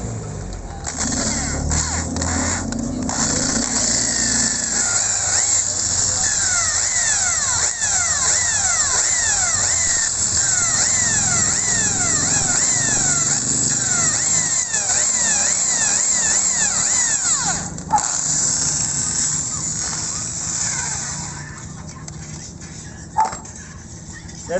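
A dull drill bit bores out a stuck stud bolt on a Raider 150 motorcycle exhaust, a loud, continuous grinding whine with shifting pitch that runs nearly unbroken before tapering off at the end.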